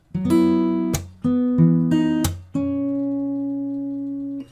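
Fingerstyle acoustic guitar notes ring out in short phrases, broken by sharp percussive slaps on the strings, ending on a sustained chord.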